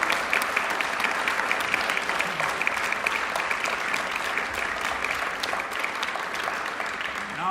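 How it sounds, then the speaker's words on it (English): Concert audience applauding a saxophone quartet and flute choir at a university wind band concert, steady dense clapping throughout, full and close, with no talk over it. "well-deserved round of applause for the Saxophone Quartet and the Flute Choir."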